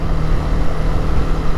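A Honda CB300R motorcycle engine heard while riding, a loud steady low drone mixed with heavy rushing wind noise, constant and without talk.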